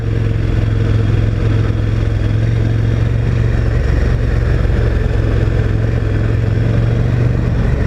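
A 2018 KTM 1290 Superduke motorcycle engine runs in first gear while riding, giving a loud, steady, close drone that stays even throughout, with wind noise and no talking.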